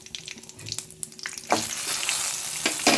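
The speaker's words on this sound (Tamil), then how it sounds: "கடலைப்பருப்பு உளுத்தம்பருப்பு போட்டுட்டு கொஞ்சம் பொன்னிறமாக ஆகட்டும்" Chana dal and urad dal fry in hot oil until golden for a vendakkai thuvaiyal, giving a close, crackling sizzle that turns louder and denser partway through, with a few sharp pops.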